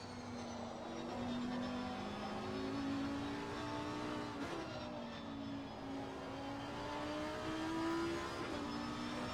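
A Lamborghini Huracan GT3 race car engine in a racing video game at the Nürburgring drones faint and steady, with its pitch rising and falling through gear changes.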